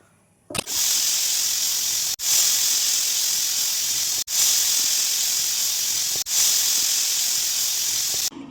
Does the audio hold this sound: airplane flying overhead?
no